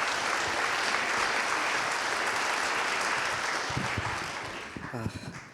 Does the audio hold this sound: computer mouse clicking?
no